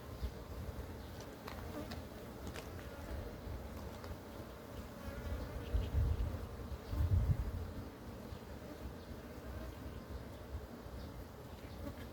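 A colony of native Korean honeybees hums steadily close by, the buzzing swelling louder for a couple of seconds midway before settling back to a constant drone.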